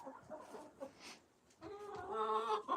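Rhode Island Red hens around 25 weeks old, just starting to lay, cluck in short, irregular bursts, close by. The clucking becomes more sustained and louder toward the end, with faint background sounds around it.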